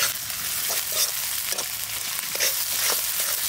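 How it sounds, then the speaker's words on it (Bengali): Onion with ginger and garlic paste being sautéed in a hot pan for a chicken and sour spinach dish, a steady close sizzle with scraping stirs recurring every half second or so, no voices. "এবার ভালো করে এটাকে কষাই নেব।"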